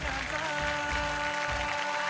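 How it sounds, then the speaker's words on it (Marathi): Steady, dense clapping from a studio audience on a women's TV game show stage, continuous and fairly loud throughout with no pauses. "जोरदार टाळ्या होऊन जाऊ दे."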